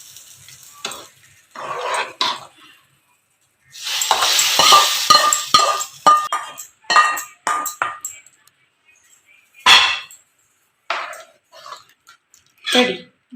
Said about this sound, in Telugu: ఇప్పుడు ఈ తాలింపుని ఈ మటన్ దాల్చింది కదా దీంట్లో తాలింపుని వేసేసుకోవాలి